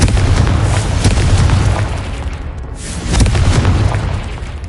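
A Confringo spell explosion in a Hogwarts video game, heard as a loud, rumbling blast that rolls and swells, eases off, then surges again.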